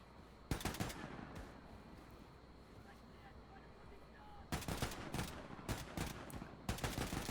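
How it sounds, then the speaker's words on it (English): Assault rifle fire in Wolfenstein 2: The New Colossus, heard as loud rapid bursts of automatic shots. One short burst comes early, then a longer stretch of sustained firing later, over a low rumbling game ambience. "just mow down all the enemies you encounter with the assault rifles"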